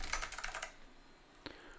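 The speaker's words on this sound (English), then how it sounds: "To top it off, the clicky keys on this AT style keyboard." Clicky keys on an AT-style keyboard of a Hyundai Super 286e computer, a quick close burst of several sharp clacks followed by a brief pause and one more isolated keystroke, fairly quiet.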